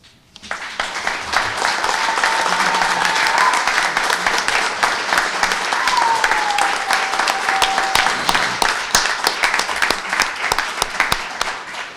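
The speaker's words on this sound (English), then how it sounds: "That applause was not for me" Applause from an audience at a city press conference about a post-overdose recovery facility, a dense sustained clatter of many hands that starts abruptly and holds strong for about eleven seconds.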